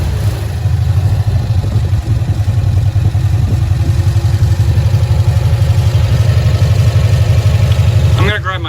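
A 1965 Cushman Truckster's small engine idles steadily and loud up close, a continuous low throbbing chug with rattling clatter, ending in a brief sharper burst of noise.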